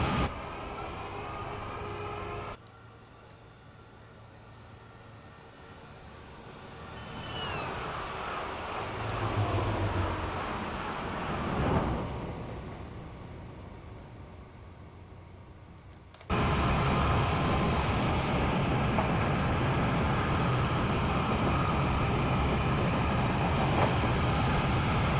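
A simulated APT-P Class 370 tilting train runs in a train simulator game, a steady loud rumble of rolling wheels and motors that drops quieter for a long stretch, with brief tonal squeals and swells, before the full roar returns.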